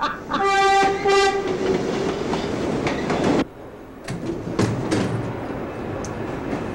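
A train carriage rolling along with rumbling wheels and clickety-clack, a horn sounding at the start, then the noise drops and steady rail rumble continues inside the car.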